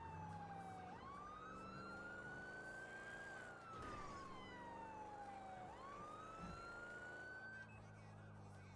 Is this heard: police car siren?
yes